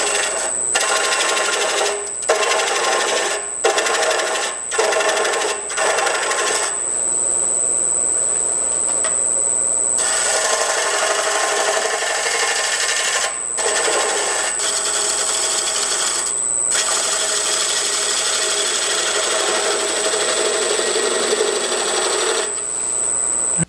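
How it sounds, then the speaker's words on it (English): A spindle gouge cuts a wooden hollow form spinning on a lathe, a steady high scraping hiss with a constant whine, broken by short repeated gaps as the tool lifts off and bites back in. "I'm going to go to a little bit bigger spindle gouge. Work this down a little faster."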